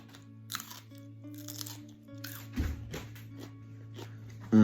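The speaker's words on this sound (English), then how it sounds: "Crunchier than normal fries." Crunchy fries being bitten and chewed close to the mic, with several crisp crunches spread across a quiet background hum.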